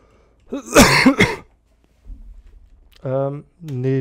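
A person gives a harsh, close cough and throat clearing in two quick bursts. After a pause come two short voiced, groaning sounds.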